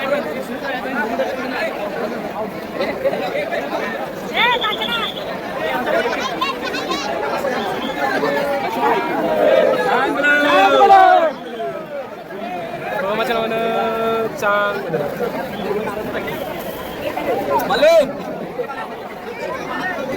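A dense crowd of pilgrims at the Balumama temple in Adamapur fills the air with continuous chatter and babble, with nearby voices talking over the hubbub.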